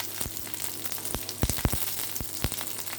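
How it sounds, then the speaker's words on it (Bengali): Garlic sizzles in hot mustard oil in a wok, a steady frying hiss broken by sharp crackles and pops, close and fairly quiet, with no talking. "রসুন চলে গেল তেলের মধ্যে"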